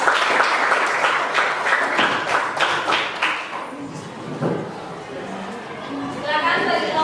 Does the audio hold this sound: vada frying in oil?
no